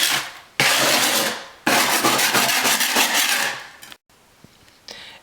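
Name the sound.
scraping high spots off a wooden subfloor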